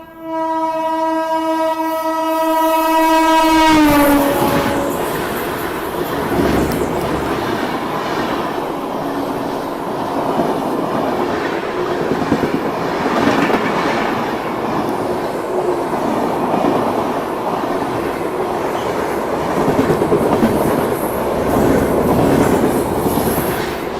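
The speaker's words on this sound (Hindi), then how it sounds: "ये मेरे ख्याल से पुरुषोत्तम एक्सप्रेस ओवरटेक करने वाली है अपने को।" Purushottam Express passing and overtaking at a station: a loud blaring horn opens, then a long close rumbling roar of rolling coaches with rhythmic wheel clatter continues throughout.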